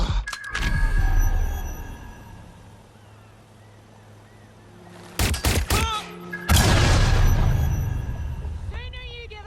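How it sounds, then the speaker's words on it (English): Gunfire in Watch Dogs Legion, with a few loud shots, a quieter lull, then sudden heavy bursts of rapid shooting that crack close and loud, alongside spoken voices. "They're shooting!"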